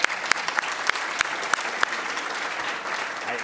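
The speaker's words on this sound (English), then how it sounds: "So let's have a round of applause for all of those presenters." Audience applause for lightning-round presenters at a plenary session, a fairly faint, continuous patter of many hands with a few sharper individual claps standing out, heard from across the hall.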